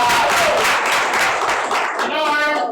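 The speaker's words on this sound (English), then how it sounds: "please give a big round of applause for Miss Comfy Stennis." Audience at a poetry competition breaking into loud, dense applause and cheering, a close wash of clapping with voices mixed in that fades slightly toward the end.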